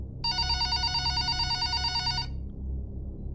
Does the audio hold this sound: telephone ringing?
yes